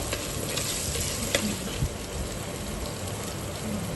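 Ginger garlic paste frying in oil and being stirred in a pan, a steady close sizzle like light rain, with a couple of soft scrapes and taps.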